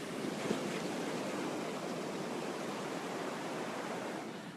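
Ocean waves wash onto a beach in a continuous broad roar of surf, close and steady with no voices over it.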